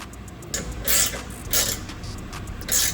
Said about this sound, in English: we can tighten up our side bolts